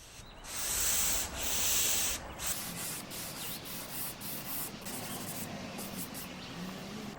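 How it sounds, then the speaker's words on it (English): Rhythmic rubbing strokes of a 320-grit sanding pad scrape back and forth across a vintage wooden sideboard, close and steady, louder in the first few seconds. "I'll gently sand this back with a 320 grit sanding pad"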